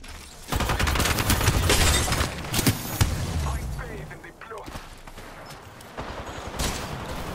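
Charge rifle fire in Apex Legends during gun game, heard as dense bursts of gunfire and impacts in the first half, then quieter game action, with players talking over it.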